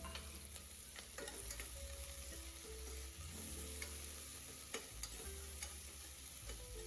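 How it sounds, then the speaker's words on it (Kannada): Garlic, ginger, green chillies and curry leaves sizzling in hot oil in a pan, a steady close crackle with light stirring taps throughout, no voices. "ಮೆಣಸಿನ್ಕಾಯಿ, ಕರಿಬೇವು ಹಾಕ್ತಾ ಇದ್ದೀನಿ"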